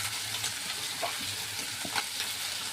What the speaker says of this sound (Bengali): এই যে নারকেলটাও আমি এবারে দিয়ে দিচ্ছি।